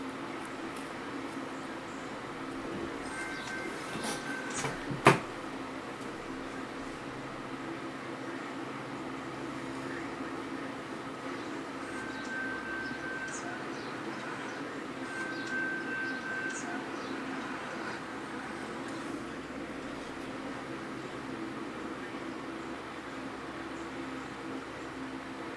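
A BNSF freight train rumbles past at a distance, a steady low drone lasting the whole stretch, with one sharp knock partway through and a faint squeal later.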